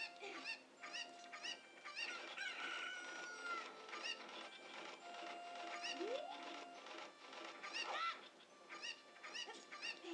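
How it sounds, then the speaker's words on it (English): Chicken sounds from the video game Zelda: Ocarina of Time: quiet clucks and squawks repeat in a busy, scattered pattern among other small game effects, faint and with no talk. "throw the chicken at the wall"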